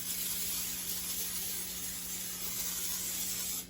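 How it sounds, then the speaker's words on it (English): Cooking spray hisses steadily from a can into a loaf pan in one continuous, fairly quiet burst lasting a few seconds, close by. "make sure you coat your loaf pan with cooking spray"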